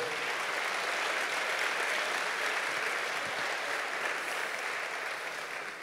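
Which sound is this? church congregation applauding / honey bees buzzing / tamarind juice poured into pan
church congregation applauding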